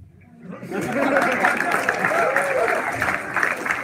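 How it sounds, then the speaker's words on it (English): Audience applause for a speaker giving a talk, swelling in after a brief quiet start into steady, full clapping with some crowd chatter mixed underneath. "I'm waiting for those applause."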